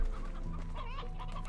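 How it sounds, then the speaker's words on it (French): Chickens clucking in the video game Slime Rancher, a steady stream of close, overlapping hen clucks and squawks sustained across the whole moment with no talk. "les poules qui veulent pas être sympas là"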